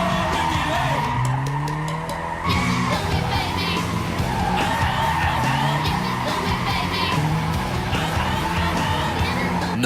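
A cheaply modified car drifting, tires skidding and squealing in long sweeping slides over a revving engine, loud and close, with faint crowd noise behind.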